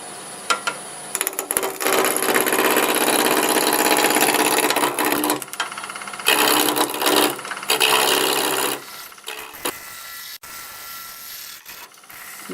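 Wood lathe spinning a blank for a multi-axis coffee scoop at about 1,000 RPM as a 1 1/4 inch roughing gouge cuts, a loud continuous rough shaving noise with brief breaks as the tool lifts off.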